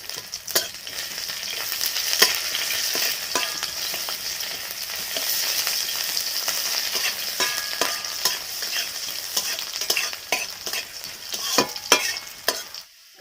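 Finely chopped onions fry in hot oil with five-spice tempering, giving a close, crackling sizzle punctuated by frequent sharp clicks of a spatula stirring the pan.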